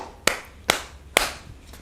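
Three sharp, separate hand claps spaced evenly about half a second apart, close and fairly loud over a quiet background.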